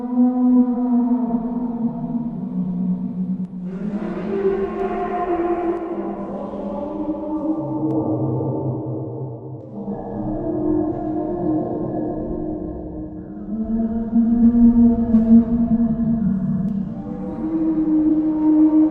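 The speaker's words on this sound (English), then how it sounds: "The scientists who picked it up, they called it the Bloop." The Bloop, a mysterious underwater sound recorded deep in the southern Pacific Ocean in 1997, plays as a long, low, wavering moan with slowly shifting pitch, sustained throughout and heard alone.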